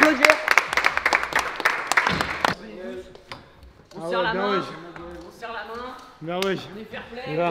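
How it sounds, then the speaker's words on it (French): An audience at a Game Of Scoot Paris vs Dissidence scooter show claps in a dense burst of applause for a couple of seconds, then it thins out and voices take over. "On peut les applaudir, on peut les applaudir!"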